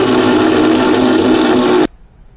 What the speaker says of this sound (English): And this is the rotation sound.